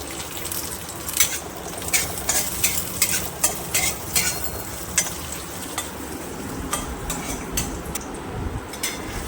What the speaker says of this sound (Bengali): আমি এই তেলের মধ্যে কাজু কিশমিশটা ভেজে নেব।